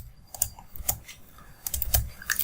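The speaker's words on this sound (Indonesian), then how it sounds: "jika kita misalnya klik enter dan kita backspace" Keys on a computer keyboard clatter in a quick, irregular burst of close, sharp taps with no talk.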